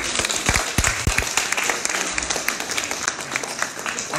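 Church congregation clapping to acclaim the Lord during a worship service, a dense, steady round of applause from many hands, close and lively.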